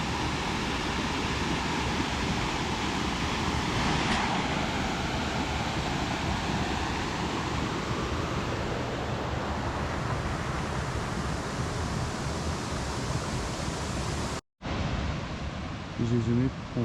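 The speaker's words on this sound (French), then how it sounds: "On a une petite cascade juste à côté." A small waterfall rushing close by in the Swaziland countryside gives a dense, steady roar of falling water, loud and unbroken, cut off briefly near the end before resuming.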